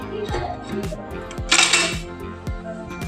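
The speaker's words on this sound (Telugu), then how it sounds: "మూత అనేది పెట్టుకుందాం." A metal lid set onto a cooking pot used for double boiling junnu, a milk pudding, giving a burst of clattering metallic clinks among repeated dull knocks of kitchen vessels.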